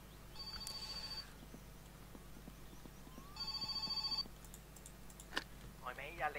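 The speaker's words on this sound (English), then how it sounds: "my phone ringing again" A phone rings in the video game My Summer Car in two electronic trilling bursts, the first short and the second longer. Faint clicks and typing run beneath, and a voice comes in at the end.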